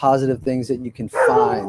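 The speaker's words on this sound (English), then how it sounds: "that's my dog barking in the background" A dog barks in the background of a remote-work home setting as someone speaks. Short barks and yips blend in and out beneath her talking.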